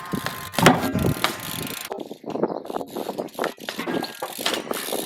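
A BMX bike doing a nose bump into a Smith grind on a ledge: a clattering impact and grinding scrape, followed by a freewheel ratchet ticking and rolling clunks, close and moderately loud.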